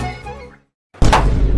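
A plastic milk packet bursts with a single loud, close pop like a firecracker, right after a brief voice and a moment of silence.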